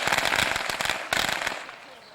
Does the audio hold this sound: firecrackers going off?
yes